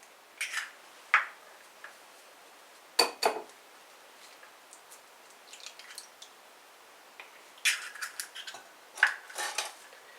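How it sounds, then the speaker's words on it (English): Eggs cracked against a bowl in a quiet kitchen, giving a few sharp, close taps and cracks separated by pauses, with soft wet shell and squish sounds between them. "So you just break open your egg like that."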